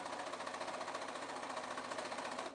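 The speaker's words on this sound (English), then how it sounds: "you may not be able to hear me over the sewing machine" A sewing machine runs steadily, stitching fabric wedges for a quilt, its rapid, even mechanical chatter loud and close and unbroken for the whole stretch before cutting off at the very end.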